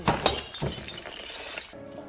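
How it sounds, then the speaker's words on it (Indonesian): Glass shatters in a film, with a sharp crash followed by a second impact and a spray of tinkling shards that trail off before cutting to near silence. "pecahan kaca yang jatuh di rumahnya"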